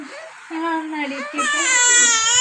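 An infant baby boy cries close by, with a whimpering rise that swells into a loud, sustained wail, heard alone with no one speaking.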